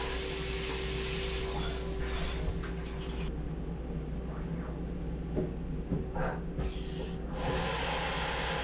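A CNC mill-turn lathe with a y-axis machines a stainless steel part, producing a dense, steady roar of spindle and coolant noise with faint shifting cutting tones and a brief rising whine near the end.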